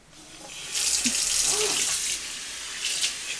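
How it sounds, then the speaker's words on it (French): Tap water runs into a sink as something is rinsed, a steady close rushing splash that swells and shifts with brief breaks, with no talking. "je vais rincer ça, nettoyer."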